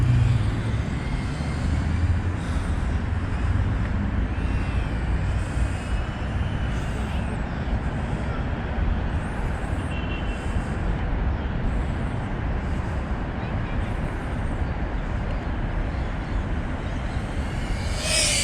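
An FPV drone in flight gives a steady, loud, broadband whirring roar that holds unchanged for the whole stretch, with no voices over it.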